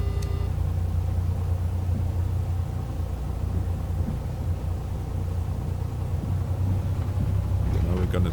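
Aircraft engine in the Prepar3d flight simulator game drones steadily while taxiing, a low even rumble with little change in pitch, mostly alone with a brief voice near the end.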